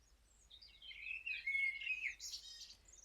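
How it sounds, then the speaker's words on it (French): Bird call ringing out against an open sky, a series of bright chirping, warbling notes that rise and tumble together, clear and fairly close over faint background hiss. "Codile aperçoit un oiseau magnifique se détacher sur le ciel"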